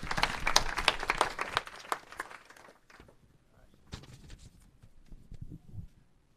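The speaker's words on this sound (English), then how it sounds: "let's give him a big round of applause and bring up the next three." An audience at a startup pitch event applauds in a short, fairly loud burst of clapping that thins out after a few seconds into scattered claps, shuffling and light movement.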